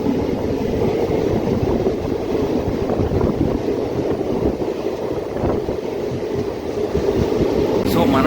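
Passenger train running between Rayagada and Koraput, heard from inside a general coach: a steady rumble and rattle of wheels and carriage with a person talking over it throughout.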